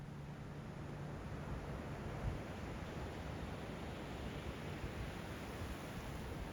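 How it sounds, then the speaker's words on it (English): Ocean waves rolling up onto a beach on an evening shore, a steady broadband wash of surf with wind, continuous and moderately faint, no voices. "the waves are rolling up on shore"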